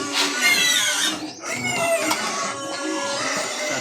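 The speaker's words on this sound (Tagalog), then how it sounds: "Galit na yung baboy." An angry pig on a farm squeals loudly and continuously, with high shrill cries rising and falling, close to the listener.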